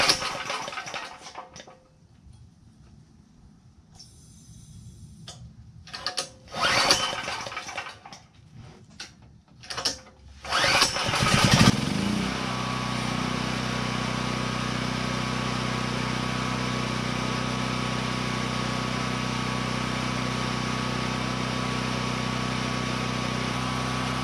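A Predator 8750 generator engine, primed and half-choked, is pulled and sputters through several rough cranking attempts before catching and settling into a loud, steady, continuous drone for the rest of the clip.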